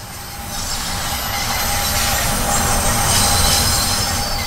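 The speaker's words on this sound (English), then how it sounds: "The trains that operate are the oldest on the network, taking their name from the year they were introduced, 1972 Tube Stop." A 1972 Tube Stock London Underground train from the Train Sim World 2 game runs steadily, with loud continuous wheel squeal, rail rumble and faint hiss throughout, no voices.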